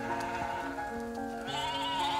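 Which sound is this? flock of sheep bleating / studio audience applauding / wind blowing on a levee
flock of sheep bleating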